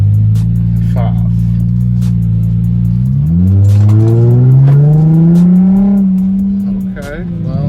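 A Chrysler 300 V6 drives off and accelerates, its engine drone rising in pitch through the gears, loud and close from inside the cabin, with a voice speaking over it.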